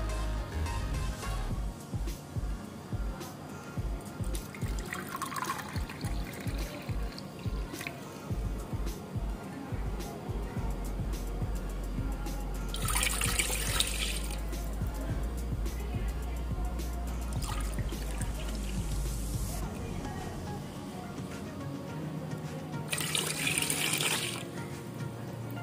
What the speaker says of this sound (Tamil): இந்த 1 கப்பு பாலுக்கு நீங்கள் இதில் 2 கப்பு தண்ணி ஆட் பண்ணணும்.